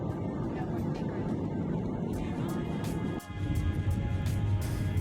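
An airplane landing at Leh airport in the Himalaya, heard from inside the cabin as a loud, steady low engine and air rumble that shifts partway through, then continues heavier, under a voice.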